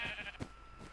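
A single short sheep bleat from the Minecraft video game, faint and brief amid quiet game ambience.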